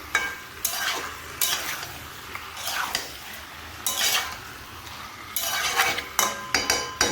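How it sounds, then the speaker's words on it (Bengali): Mutton fries in a pan as a spatula stirs it, sending recurring bursts of sizzle and scraping against the metal amid quieter stretches of low frying. "তো দেখো মাংসটা আমি ভালো করে কষাই নিলাম"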